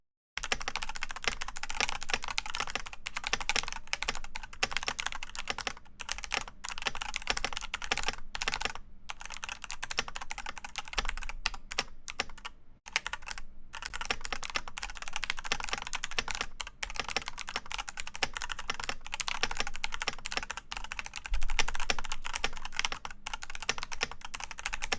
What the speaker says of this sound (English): Let me put my microphone down by my keyboard, and then I can type.